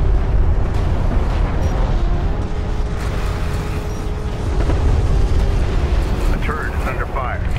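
A strike craft blows up in the real-time strategy game Homeworld: Deserts of Kharak, a heavy, sustained explosive roar folded into a dense, continuous wash of battle noise with a voice present.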